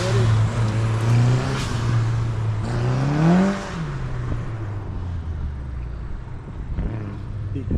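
A blue and white Volkswagen track car accelerates hard at a large autocross event, its engine revving up through rising, wavering pitch before easing off, fairly close, with a voice talking over it.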